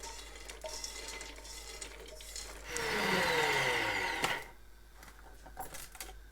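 A kitchen grinder whirs up in a short burst to grind roasted fox nuts (phool makhana), a rising, rattling motor whine lasting about two seconds before cutting off amid quieter clatter.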